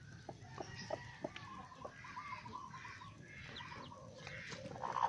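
Black Australorp hen with her chicks, soft hen clucks and high chick peeps repeating close by at a low level over faint background noise, with no talk.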